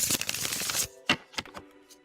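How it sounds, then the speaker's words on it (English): Tarot cards being shuffled during a live reading, a dense run of quick papery riffling for under a second, then a few separate crisp slaps and taps with quiet gaps between. "shuffling for the last reading"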